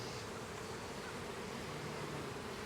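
A honeybee swarm hums steadily and continuously in the foreground, a dense, even buzz with no talk while a limb is being cleared for a swarm catch.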